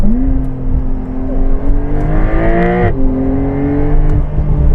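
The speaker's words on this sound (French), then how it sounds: "Le son devient très fort dans les oreilles dès qu'on atteint les 7200 tours minute." A Porsche 911 992 Carrera 4 GTS with PDK, 480 hp, revs hard under acceleration, its engine tone climbing steadily toward 7200 rpm, then dropping briefly at a gear change before rising again, loud and close from inside the car.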